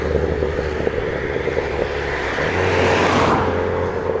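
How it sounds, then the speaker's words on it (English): A Ford Fiesta overtakes on a British road, its engine note rising from a steady rumble into a louder, closer whoosh as it draws alongside and past. "That wasn't a Ferrari that overtook me just now, it was a Ford Fiesta."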